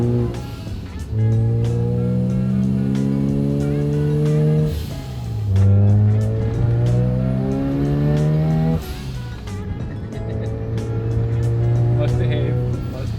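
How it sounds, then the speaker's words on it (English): A restored Mazda RX-7 FC turbo street car accelerates hard through several gears, its rotary engine climbing loud and close with turbo boost noise and brief pauses at each shift. "This brings out the kid in me, wanting those boost noises over and over"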